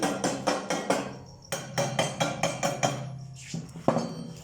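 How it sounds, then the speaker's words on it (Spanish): Steel chisel striking and chipping slag off a fresh weld bead, a series of sharp metallic taps in quick, fairly regular bursts, close and distinct, with a brief pause partway through. "Con el cincel vamos a golpear la escoria"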